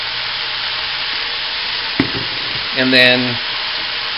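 Meat sears in a hot pan for Chamorro-style puchero, a steady broadband sizzle running throughout, with a sharp clank near the middle and a brief louder stir or scrape toward the end; a voice briefly speaks.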